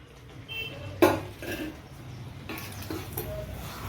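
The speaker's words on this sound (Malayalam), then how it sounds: "പതിയെ മിക്സ് ചെയ്ത് കൊടുത്താൽ മതി." A metal spoon scrapes and clinks against a pot while fried quail is gently stirred into thick masala for kada biryani, a sharp clank followed by softer intermittent scraping, close and alone.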